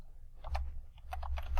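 Fingers tap out bursts of keystrokes on a computer keyboard, quick irregular clicks close to the microphone over a low background hum.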